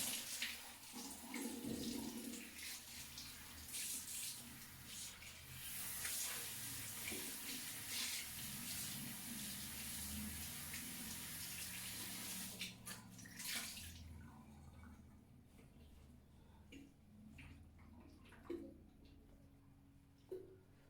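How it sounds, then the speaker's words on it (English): Lukewarm tap water runs steadily into a sink while a face is rinsed, a broadband wash of splashing for about thirteen seconds before it stops and leaves scattered drips and small clatters. "I'm just going to be using lukewarm water, not warm, not too cold, not too extremely warm, just a little bit in between, okay?"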